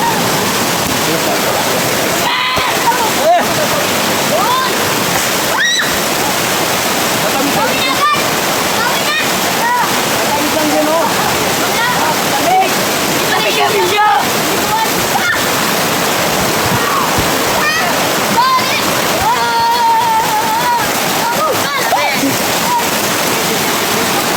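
Rushing water of a waterfall at Busai in Pinamalayan, a steady loud broadband roar that fills the whole clip, with voices talking over it at times.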